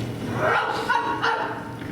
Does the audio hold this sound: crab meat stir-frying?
no